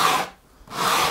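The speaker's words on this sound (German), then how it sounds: "jetzt werde ich mit dem Schleifer einmal über die Kante gehen, eine leichte Rundung rein" A power sander rasps along the edge of a wooden workbench to round it over, two close loud bursts of scraping with a brief quiet gap between them.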